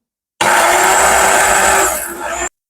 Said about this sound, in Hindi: नारियल भी हम थोड़ा सा हल्का सा इसको ग्राइंड कर लेंगे